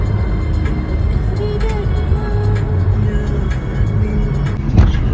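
A car drives along a good road on the way to a temple festival in Payyanur, giving a steady, loud engine and tyre rumble throughout with faint voices underneath.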